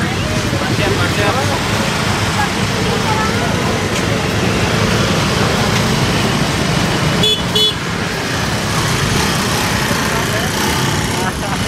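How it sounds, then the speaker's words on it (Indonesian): Dense, steady roar of a congested street in Indonesia during the Ramadan fasting-break hour, engines rumbling close by with a brief honk-like burst near the end, while voices talk over the din. "Di sini rada macet dan bising."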